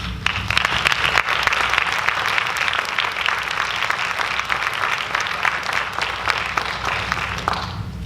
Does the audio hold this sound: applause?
yes